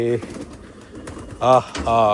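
King pigeons cooing in a cage at a pigeon market in Chittagong, Bangladesh, where the birds are laying eggs: a few loud, close, throaty coos in two bursts, with someone talking briefly near the start.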